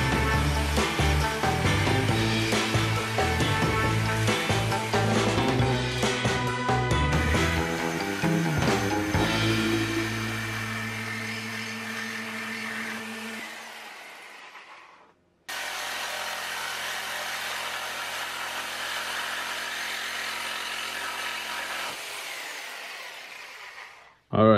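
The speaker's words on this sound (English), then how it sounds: "I'm gonna cut using this saw instead of an angle grinder, is because this will produce less sparks." A saw cuts through the steel frame tubing of a Harley Sportster, a loud, steady, tonal grinding with shifting pitch that runs for about fifteen seconds, then a second cut resumes after a brief pause.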